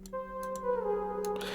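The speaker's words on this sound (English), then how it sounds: "I layered the melody with another Xenology pattern. It's this little air lead." A soft synth air lead, layered Xenology pattern, holds a short airy melodic line with gentle pitch movement over a low drone, brief clicks scattered through, in a jerk and hoodtrap beat.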